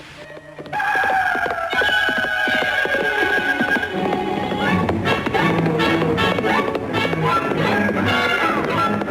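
A horse in a Disney cartoon for Sleepy Hollow gives a loud, long whinny followed by clattering hoofbeats and busy orchestral effects, with a crowing rooster also in the mix.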